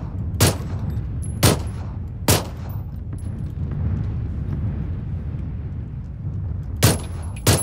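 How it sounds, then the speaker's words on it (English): Distant gunshots from another player in PUBG crack out in a loose series, five sharp reports spaced irregularly over a steady low rumble, with no talking. "I can hear him shooting."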